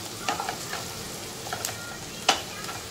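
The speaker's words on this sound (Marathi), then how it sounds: "कांदा व्यवस्थित परतून झाले." Chopped onion sautés in a pan on low heat for egg bhurji, a soft, continuous sizzle broken by a few light spatula taps and scrapes, the sharpest one near the end.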